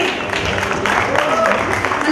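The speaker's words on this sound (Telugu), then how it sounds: "గట్టిగా చప్పట్లు కొడదామండి" An audience at a music evening honouring artists applauds in a brief, dense burst, with talk running over the clapping.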